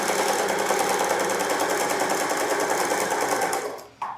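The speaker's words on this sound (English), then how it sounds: "the machine sews in a straight line" A sewing machine runs steadily, stitching a concealed zip into a cushion in a straight line, its fast, even needle rhythm loud and close before stopping abruptly near the end.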